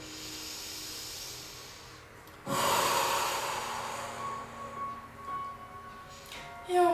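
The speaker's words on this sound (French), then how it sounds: "on inspire par le nez, on expire par la bouche." During a hatha yoga session, a person takes a slow, steady breath in through the nose, then lets out a loud, rushing breath through the mouth that tapers off gradually, with softer breaths after it.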